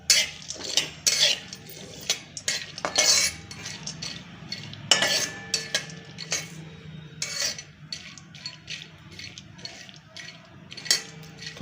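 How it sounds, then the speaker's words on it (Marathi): Grated carrots are stir-roasted in ghee in a pan for carrot halwa, with a metal spoon scraping and clinking against the pan in irregular bursts, close by, over a faint background. "तूप मी भाजून घेते आणि मग आपण गाजर भाजून घेऊया परतून"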